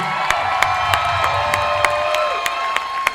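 A crowd at an evening concert at Epcot applauds and cheers for a guitarist, with whoops and shouts rising over steady clapping while the band's sustained tones ring underneath and sharp drum-like hits punctuate the noise.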